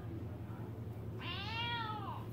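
One drawn-out meow from a nearby cat sounds over a low, constant droning background.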